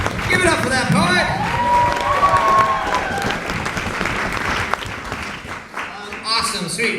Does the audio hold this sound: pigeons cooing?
no